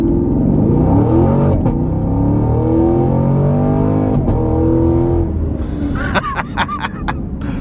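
A 2016 Chevy Camaro 2SS convertible accelerating hard, engine roaring loud and close through rising revs with brief gear-shift breaks, then settling into fainter lighter sounds near the end.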